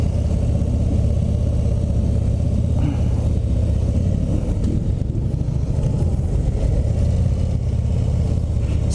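A 2019 Harley-Davidson CVO Road Glide FLTRXSE motorcycle engine rumbles steadily and loudly from close by during a ride, a continuous deep throbbing drone with no talking.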